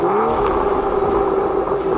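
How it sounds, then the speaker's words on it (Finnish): A BMW M235i Performance engine runs loud and steady at a high drone, with a rough, throaty tone close to the microphone and no speech. "BMW lähtee käyntiin todella vihaisesti."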